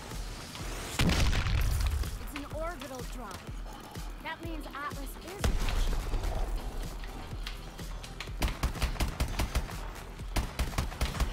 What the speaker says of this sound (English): Gonna throw a grenade there.